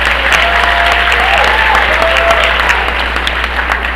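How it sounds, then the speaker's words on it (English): Crowd applause at a Diwali show, dense continuous clapping from a large audience with a steady low hum underneath, loud and unbroken throughout. "Harvinder does deserve a round of applause"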